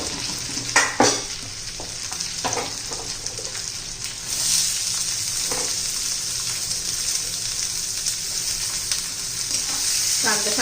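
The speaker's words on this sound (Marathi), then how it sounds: "आता कांदा घालून घेऊ" Chopped onion frying in hot oil in a pan for a village-style brinjal curry, a steady close sizzle with a few sharp scraping stirs near the start and a brief surge partway through.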